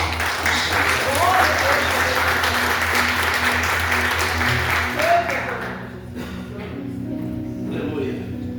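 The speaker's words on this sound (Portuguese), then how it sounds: "se você pode, aplauda ao nome do Senhor" Church congregation at an evangelistic service clapping warmly and steadily for several seconds, with a voice sounding over it, before the applause thins out and fades toward the end.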